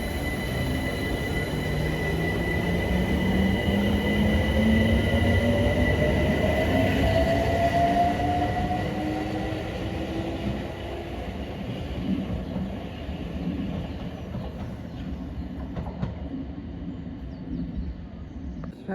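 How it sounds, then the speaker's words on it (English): Class 378 electric train 378-152 pulls away from a London platform toward Clapham Junction, its rising motor whine and rolling wheels loud at first, then fading gradually into the distance with no talking. "378-152 now departs off to Clapham Junction"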